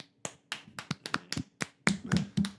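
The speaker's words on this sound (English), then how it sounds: "was tapping the table" Sharp taps and knocks on a table, about a dozen crisp hits in an irregular rhythm with brief pauses, close and fairly loud with no talk.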